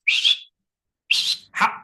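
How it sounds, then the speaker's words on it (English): Two short, high whistles ring out in the quiet, the second a two-note call that dips at the end. "he heard a whistle"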